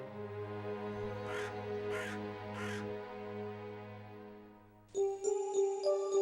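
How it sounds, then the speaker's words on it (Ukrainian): A raven gives three harsh caws at an even pace over sustained instrumental music, followed by a bright chiming tone near the end. "Лише ворон набридав лиховісним карканням."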